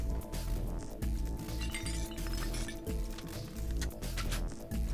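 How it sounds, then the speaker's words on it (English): Glass bottles clink repeatedly in Virtue's Last Reward, sharp bright taps arriving in an uneven rhythm over a dense, busy game soundtrack, fairly close and moderately loud. "Good bottles clinking fully"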